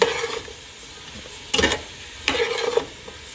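Soup mixture with butter being stirred in a pot, giving two short bursts of scraping and sloshing against a quiet background, close and moderately loud, with no talking.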